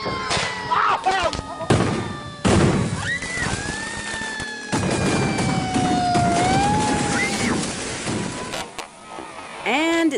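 Illegal fireworks set off nearby in bursts of loud bangs, crackles and whistling rising shrieks, with frantic shouting voices over the blasts.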